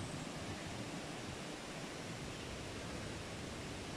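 A steady, broadband rush of flowing water from a river and waterfall at Chambok in Kirirom National Park, Cambodia, constant and fairly loud with no other sounds.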